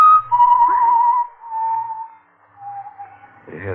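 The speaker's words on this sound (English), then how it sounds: "It's someone whistling" A lone person whistles a slow, wavering tune, clear and close, with a few quiet breaks between phrases and a brief rustle at the end, set in a tense radio drama scene.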